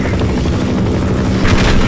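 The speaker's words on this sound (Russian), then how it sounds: "Вертолет!" A helicopter in a video game flies close with a loud, steady rotor drone and dense rumbling noise, held throughout with no talking.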